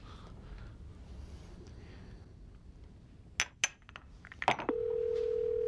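A telephone handset is picked up and redialed after a failed call: a few clicks and clinks, a brief burst of tones, then a steady dial tone held to the end, with faint background noise before.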